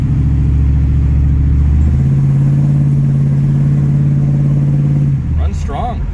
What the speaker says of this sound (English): We'll get through this corner and then get into the throttle again.